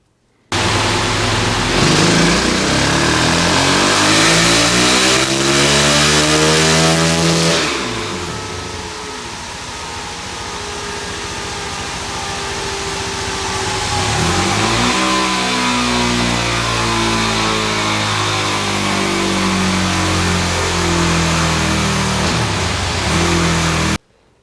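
Suzuki DR-Z400 engine fitted with a Mikuni TM36 flat-slide carburettor revving hard on a dyno, loud sustained climbing pulls that drop off midway, ease down and then build again.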